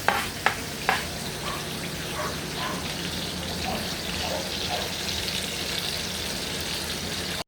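Onions sizzle and fry steadily in a pan while ampalaya is cooked, with a few sharp clatters at the start and then an even hiss throughout, fairly quiet and without talk.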